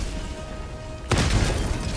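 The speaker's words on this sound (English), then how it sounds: "The explosive mortar will take out most of the small enemies, so you can just focus on hulks." Mortar shell explosions in Helldivers 2, a single heavy boom landing abruptly out of a low background rumble and leaving a rolling, crackling tail.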